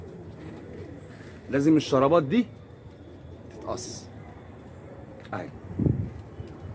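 Pigeon cooing up close, a couple of soft throaty coo phrases between brief spoken words from a man nearby.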